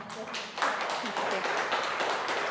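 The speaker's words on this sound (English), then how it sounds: "let's give a round of applause for Giana" An audience applauds Dr Giana Gomes before her talk, dense clapping that swells after a brief softer start, with voices mixed in beneath it.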